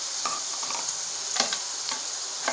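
Potatoes, carrots, beans and French beans frying in a pan for a restaurant-style mixed vegetable sabzi, with a steady close sizzle and several scraping stirs of a spoon, no voices.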